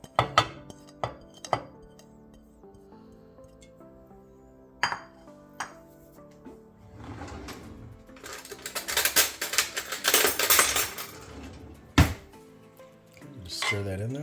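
Carrots stirred into a pan of cooled spring-roll dipping sauce, giving scattered clinks and scrapes of a spoon against the pan and a busier stretch of rattling and clatter midway, close and moderately loud.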